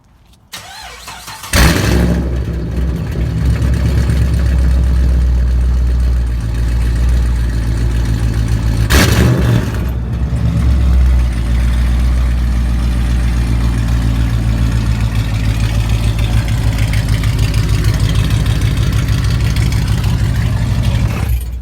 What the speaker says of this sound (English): so right now I got the stock mufflers off and I just can't help myself. I need to see how it sounds. Just open.